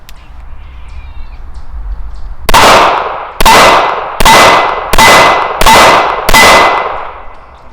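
Six sharp gunshots from a Springfield 911 .380 pistol firing Hornady hollow point rounds, loud and close, spaced roughly a second apart with ringing decays after a quiet lead-in.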